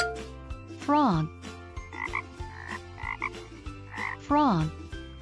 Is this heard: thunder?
no